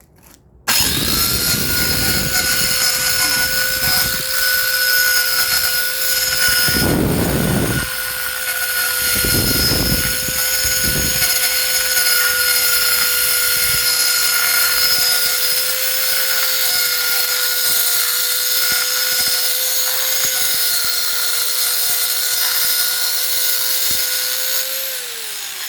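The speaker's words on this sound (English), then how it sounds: "it's going to be hard to let go of the saw and unpause you. So turn your volume down." A power saw cuts shims for a tub surround, one loud sustained whine close by with brief rough bursts of blade biting wood, running nearly the whole time.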